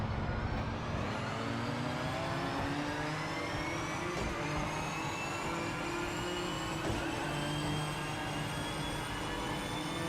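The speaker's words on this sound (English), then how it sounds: "Okay, this car sound is not very good." A race car engine in the video game Project Motor Racing drones continuously with a whining, buzzy tone whose pitch creeps upward, steady and unbroken throughout with no voices.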